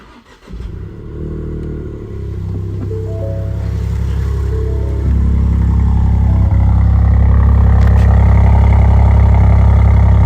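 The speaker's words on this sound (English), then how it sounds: "I'm going to insert some like sound clips now of like a cold start and stuff" A Ford Puma ST engine cold starts and settles into a loud, steady idle, its deep rumble rising slightly and holding firm as it warms up.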